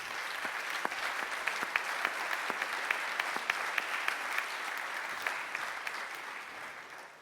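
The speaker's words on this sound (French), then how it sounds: "On vous applaudit." An audience at the 2025 Soirée des Ponts awards evening, presenting the Prix Perronet engineering prize, claps steadily for about seven seconds, a dense, even wash of many hands at moderate volume.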